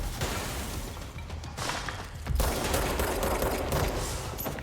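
Rapid bursts of gunfire in the Control video game, dense overlapping shots and impacts that drop off briefly before a heavier, louder volley resumes.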